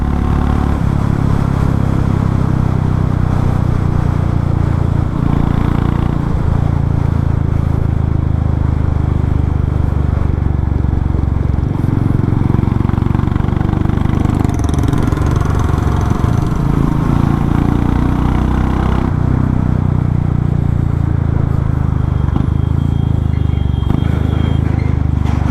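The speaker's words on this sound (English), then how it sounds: "I guess a bike should be at least this loud," Royal Enfield Meteor 350 motorcycle with its catalytic converter removed for a straight-pipe exhaust, rumbling steadily and loudly up close for the whole stretch with a dense low engine drone and no talking.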